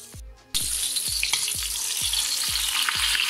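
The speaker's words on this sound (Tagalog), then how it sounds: "Kumukulong mantika." A large dorado fish deep-fries in boiling oil, a loud, steady, close sizzle and crackle, with a regular low bubbling pulse about every quarter second as the pan is rocked.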